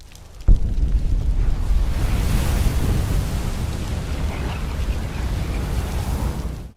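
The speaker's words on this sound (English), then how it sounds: "There's something so refreshing about the sound of capturing a dragon soul and unlocking a shout." In the video game Skyrim, a dragon soul is absorbed, opening with a sudden deep impact and then becoming a loud, sustained rushing roar like a windstorm that holds steady before cutting off.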